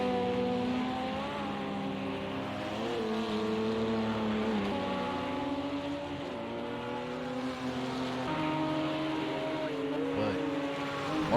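LMP1 prototype race cars at Silverstone in a racing video game hold a continuous, loud engine drone with layered pitches rising and falling as the cars pass and shift.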